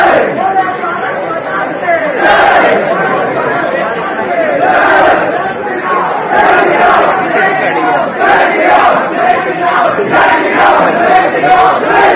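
Large crowd of students in saffron shawls chanting Jai Shri Ram slogans at a college in Karnataka, a dense continuous roar of massed voices and shouts, loud and close throughout.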